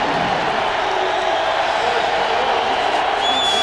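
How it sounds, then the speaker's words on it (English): Stadium crowd at a 1999 Raiders–Buccaneers NFL game, a dense, steady roar from the stands behind the end zone, continuous and fairly loud without distinct cheers or voices. "that crowd in the back there"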